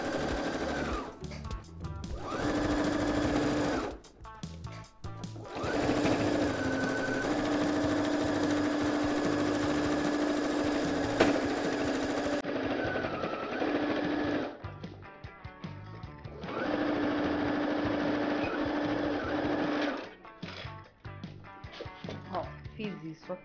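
Sewing machine stitching a pet carrier backpack that doubles as a baby carrier, running in several sustained bursts with short pauses between them, close and steady.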